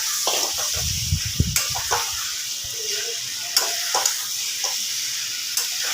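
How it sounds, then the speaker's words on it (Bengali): Boiled soybeans and potatoes stirred into sizzling masala in a pan, a background fry hiss broken by a few scraping stirs and sharp clicks of a spoon against the pan, close by, no talking. "এবার খুব ভালোভাবে এটাকে মিক্স করে নেবো"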